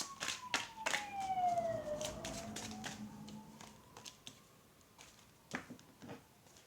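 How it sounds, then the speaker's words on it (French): An ambulance siren passes, its wailing tone sliding down and then rising again while sharp taps and clicks sound nearby, with no one talking. "l'ambulance, elle passe"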